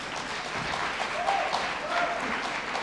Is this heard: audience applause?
yes